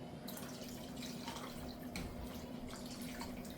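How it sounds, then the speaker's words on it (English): A steady stream of water pours and splashes into a pot, continuous and close, with no talking. "I think I'm gonna add like 4 cups of water"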